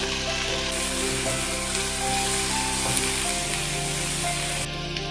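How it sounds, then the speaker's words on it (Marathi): Potatoes sautéing over a high flame for aloo chilli, a dense continuous sizzle and frying hiss with faint stirring scrapes, close and steady throughout, no talking. "एक दोन मिनटं परतून घ्यायचे मोठ्या गॅसवरती"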